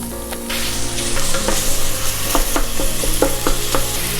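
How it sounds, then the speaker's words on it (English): Meat browns in a pan on a stovetop, a steady loud sizzle with close crackles and occasional clicks of a utensil against the pan, no voices. "you'll want to just grab a pan and get this browned on the stove"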